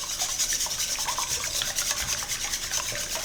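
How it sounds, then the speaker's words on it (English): A whisk scrapes and beats eggs in a bowl, a quick, even rhythmic rubbing and clicking that stays soft and close throughout with nobody talking. "crack your eggs into a bowl and use a whisk to break them up"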